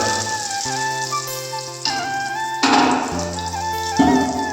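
Spoonfuls of pitha batter drop into hot oil and puff up, making a close bubbling sizzle with crackly droplet sounds over a faint background hum, with no voices.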